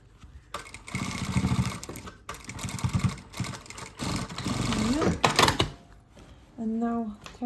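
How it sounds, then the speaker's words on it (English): Sewing machine stitching quilted makeup bag layers, running in several loud close bursts with short pauses between them, while a person talks over and between the runs. "So stitch these layers together, leaving the lining last."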